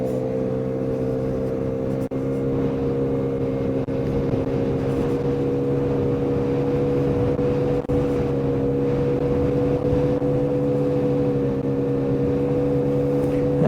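A Lexmoto Echo Plus motorcycle engine runs steadily at its speed restriction, a continuous droning hum with a faint pulsing quality, heard from the rider's position with no talk.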